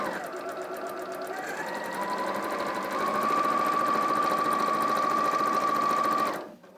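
A small compact sewing machine stitches a quilt block seam, running at a steady, even whirr that speeds up slightly partway through, then stops abruptly at the end.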